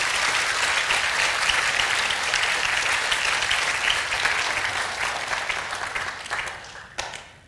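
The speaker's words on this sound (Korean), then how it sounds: "잠깐 뜨거운 박수 한번 해드리시기 바랍니다." A church congregation applauds a deacon during a Sunday Father's Day worship service, a dense, steady wave of many hands clapping that holds for several seconds, then thins and fades out near the end.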